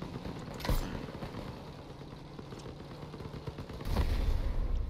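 Explosive guns fire in the vehicle combat game Crossout, with two heavy booming shots about three seconds apart over a rumbling engine and mechanical clatter, moderately loud.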